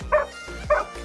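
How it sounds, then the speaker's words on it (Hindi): Two sharp dog barks, about half a second apart, close by, with a low rumble of background noise between them. "ये भौंक रहा"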